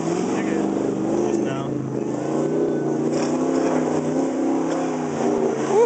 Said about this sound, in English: fucking badass motor right there